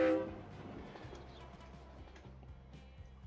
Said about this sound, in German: Jetzt fährt unser erster Zug raus und der zweite wird hier warten.